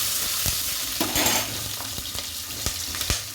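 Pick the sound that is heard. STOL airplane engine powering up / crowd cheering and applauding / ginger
ginger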